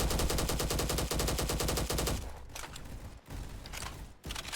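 An LMGX machine gun fires in the video game Bad Business as a rapid, evenly spaced burst lasting about two seconds, followed by a few shorter, choppier bursts. The fire sounds loud and close, with no talk over it.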